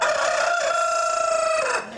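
A rooster crows one long drawn-out call, loud and close, holding a steady tone before tailing off at the end, with no other sounds around it.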